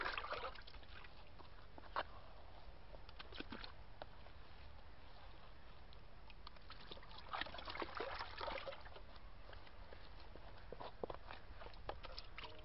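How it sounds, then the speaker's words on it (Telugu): Ground seed paste is stirred into 200 litres of water to make a farm tonic, with continuous trickling, sloshing and splashing bursts close by and no talk. "ఆ మిశ్రమాన్ని ఈ విధంగా కలుపుకోవాలి నీళ్ళల్లో"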